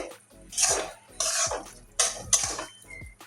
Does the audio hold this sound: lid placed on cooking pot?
yes